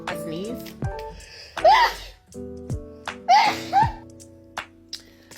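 A woman has a sneezing fit, several sharp bursts spaced a second or so apart with breathy intakes between them, close and loud, mixed with what sounds like light laughter or vocal noises.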